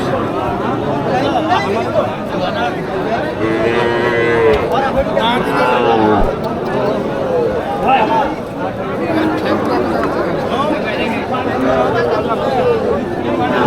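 Cattle mooing repeatedly at Ambari cattle market in Dinajpur, Bangladesh, with native and crossbred cows calling over steady crowd chatter and voices nearby.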